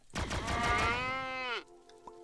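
A cow in the video game Planet Centauri gives a single long, loud moo that lasts over a second and stops abruptly. A faint short sound follows afterward.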